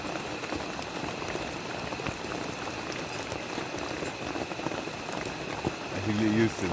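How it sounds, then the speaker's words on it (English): Heavy rain falls steadily on a riverside campsite beside a crackling campfire, a dense, even hiss of drops spreading across the whole clip with no voices, swelling slightly louder at the very end. "It's awful rainy"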